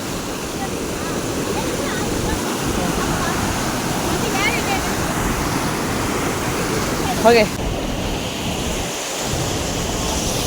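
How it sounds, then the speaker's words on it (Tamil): Rain falls outdoors at the Valparai hill station as a loud, constant broadband hiss, with a brief voice speaking over it. "மழை வேறு பெய்யுது."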